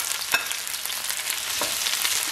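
Sliced onions fry in hot oil for a fish and rice dish, giving a steady, close, bright sizzle with a few sharper crackles and stirring clicks and no voices.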